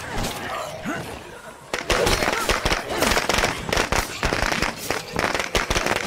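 Gunfire in State of Decay 2 erupts after a quieter opening, turning into a loud, rapid, crackling barrage of shots that keeps going with little pause, with a player voice faintly under it.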